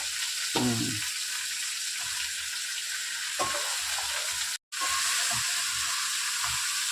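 Mint and coriander leaves sizzle and fry in hot oil for chicken biryani, a steady loud hiss with occasional soft stirring scrapes and a short silent gap midway.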